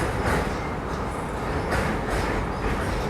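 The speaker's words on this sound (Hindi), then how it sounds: "मालगाड़ी को भी हमारे साथ पैरेलल छोड़ा गया है" Steady rumbling rail noise from a moving Rajdhani express in India with a freight train running alongside, a loud continuous roar with faint rhythmic clatter.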